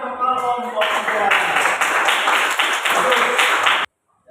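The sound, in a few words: group clapping hands in applause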